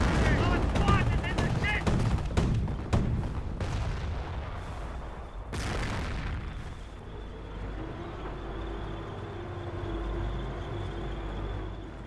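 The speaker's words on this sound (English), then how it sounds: "MG42 firing away." MG42 machine guns in Company of Heroes, rapid bursts of gunfire clattering alongside other weapon shots and explosions, loud at first, then giving way to a quieter rumble of battle and engine noise.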